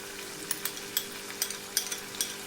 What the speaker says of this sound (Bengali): দিয়ে মশলাটাকে আমি ভালো মতন করে কষিয়ে নেব।